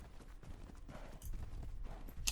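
Bison hooves pound the ground in Ark Ascended on the Ragnarok map, a steady run of soft, muffled thuds that carries on throughout with no voices.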